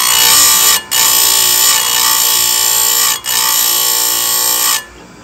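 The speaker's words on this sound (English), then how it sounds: "this honing pad, you can see it pulling material from the top and the sides" A chain grinder's honing pad sharpens a chainsaw chain with a loud, steady, high-pitched grinding whine, interrupted by two brief dips before stopping near the end.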